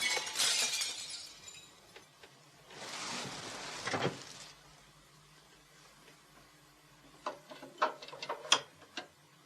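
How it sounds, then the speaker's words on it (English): A window smashing in a 1981 radio drama, glass scattering in two noisy bursts, followed by a quiet stretch and then several sharp clinks of falling shards. "I think somewhere in the night a window smashed."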